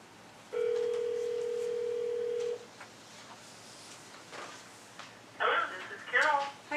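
An outgoing phone call being dialed during a city council meeting: a steady two-second tone, then a pause before a short run of quick dialing or ringing tones, all fairly faint over room noise.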